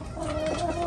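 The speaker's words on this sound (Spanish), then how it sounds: "darles de comer a las gallinas" Hens on a small flooded ranch cluck steadily and close by as they are fed after a storm, a continuous busy flock sound with no talking.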